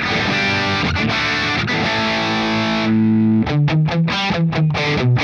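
Distorted electric guitar through a Marshall JCM 800 2203 tube amp with the presence knob turned fully down, playing a sustained chord that shifts into a rhythmic chugging riff of short, loud repeated hits, with no talking.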